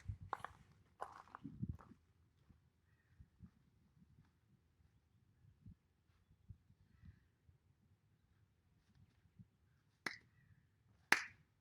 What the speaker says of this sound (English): here we go, second set, clapping push-ups